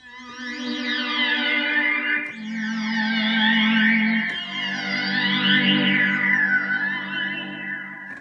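A piano patch on a Behringer UMX490 MIDI controller keyboard, heavily altered with modulation, plays sustained chords that shift twice, wobbling and shimmering with chorus-like swirl and echo, loud and alone.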